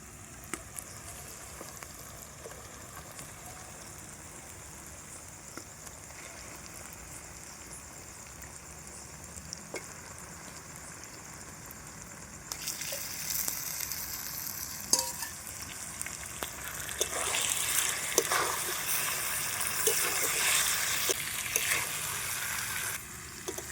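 Chicken meat added to spiced oil and frying, a low steady sizzle at first that swells into a louder, crackling fry with scattered stirring clatter in the second half.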